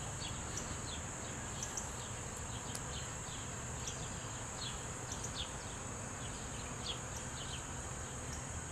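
Honeybees buzz around an open hive while its brood nest is being cleared, a dense, steady drone filling the air close by with scattered individual bees whizzing past.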